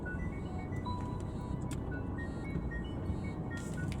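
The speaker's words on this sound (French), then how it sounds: "Et ça, c'est ma montre qui me dit que je dois prendre un médicament." A smartwatch chirps a medication reminder as a short melodic run of thin electronic tones, fairly soft, over a steady wash of background noise.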